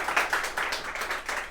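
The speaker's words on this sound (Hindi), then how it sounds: "जोरदार तालियां हो जाएं संतोष सर के लिए।" Enthusiastic applause and clapping from an audience welcoming a teacher at a student award ceremony, a dense steady patter of many hands lasting throughout.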